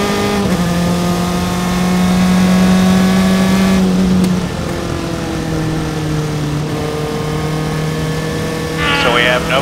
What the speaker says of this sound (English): As cars continue to come by.